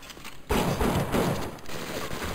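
Gunfire from the video game BioShock: a sudden burst of rapid shots that starts after a brief quiet moment and keeps rattling loudly and densely to the end, with no talk over it.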